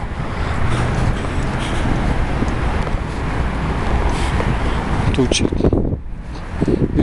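Continuous autumn wind on the Oka embankment in Nizhny Novgorod buffets the microphone with a low rumble, while a voice speaks briefly near the end.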